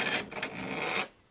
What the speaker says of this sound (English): So we're just going to file out some of these little bits.